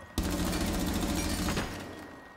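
A sudden close burst of rapid automatic gunshots in Rainbow Six Siege fires for about a second and a half, then cuts off and its echo fades away, with no talking.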